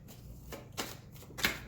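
Tarot cards being shuffled for a love reading, a few soft riffling bursts with quiet gaps between them, close and fairly faint with no voices.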